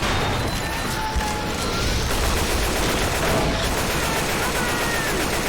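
Dense, continuous gunfire in the co-op shooter Left 4 Dead, a steady roar of overlapping shots with no gaps across the whole stretch.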